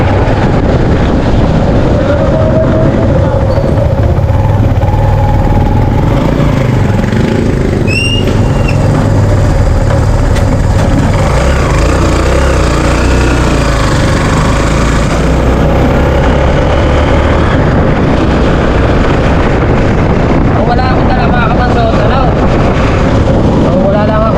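A motor tricycle engine runs steadily throughout while carrying a heavy load, a loud low rumble with wind buffeting the microphone and faint voices beneath.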